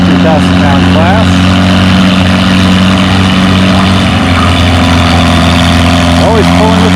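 An Allis-Chalmers CA tractor in a 3 mph, 2,000-pound class tractor pull, its engine droning loudly and steadily throughout with a constant low hum, nearby and dominant, over faint distant voices.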